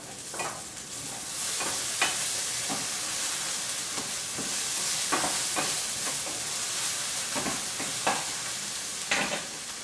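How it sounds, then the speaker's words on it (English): Diced potatoes fry for a honey mustard ham hash and get tossed and stirred in a pan, with a steady bright sizzle broken by irregular scraping clatters, close up and with no talk. "Let me just give these potatoes one quick toss."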